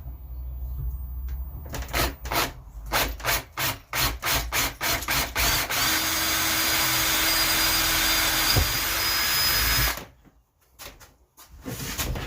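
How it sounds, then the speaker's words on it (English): Several short clicks and knocks, then a power drill whines steadily for about four seconds boring a hole in scrap material for a cold frame, before stopping, followed by quieter handling sounds. "now all I need to do is drill that and countersink it"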